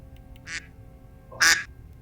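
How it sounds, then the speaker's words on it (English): Two short quacks from a duck, the first soft, the second louder and brighter, separated by a brief pause over quiet background hum. "Quack, quack."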